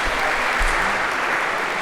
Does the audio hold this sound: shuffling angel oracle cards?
no